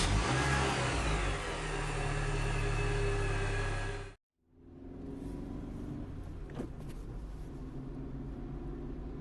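A car engine roars loudly while driving fast, with a steady rumble that cuts out sharply for a moment, then returns as a quieter drone.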